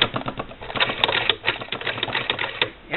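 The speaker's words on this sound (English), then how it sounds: "that's the handle on the case that's shaking a little bit" A Singer Model 20 sewing machine running on a heavy wooden kitchen table while its case handle shakes, giving a fast, loud, close mechanical clatter that continues with short pauses and no talking.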